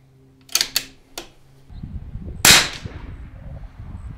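Rifle shots fired in a five-shot group from a barricade position, with a scope mounted; sharp loud reports come as a close cluster of three, then a single louder crack, with mechanical handling and rustle in between.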